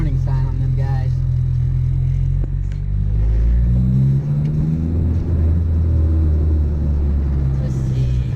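Ford Mustang engine rumbling at a car meet, a deep steady idle with a rise in revs partway through, close and loud, with people talking over it.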